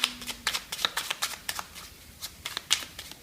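Oracle cards being shuffled by hand, a quick run of crisp papery riffles and slaps close by, with brief pauses between bursts and no talking.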